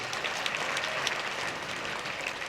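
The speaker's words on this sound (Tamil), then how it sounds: "கைதட்டுங்க" Steady applause from an audience at a talk by actor Dhamu, a dense wash of many hands clapping at even loudness throughout, with no voices above it.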